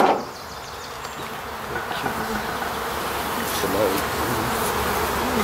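Black honey bees buzz steadily in and around an open hive of frames, a dense, continuous drone that swells slightly toward the end, close by and without speech.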